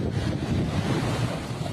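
Strong typhoon wind from Super Typhoon Pepito sweeping over Catanduanes and Aurora, a steady loud roar of gusts and microphone buffeting with a surf-like rush, no voices.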